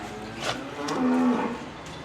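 A cow on a British dairy farm lets out a single low, drawn-out moo, loud and close, over faint farmyard background noise.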